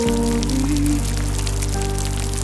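Rainfall patters in a constant stream of drops, blended with sustained musical tones that hold steady throughout.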